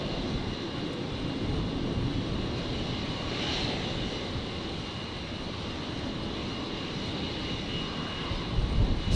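An airplane engine at Brisbane International Airport, a steady broad roar held at constant loudness throughout, fairly distant and unbroken by voices.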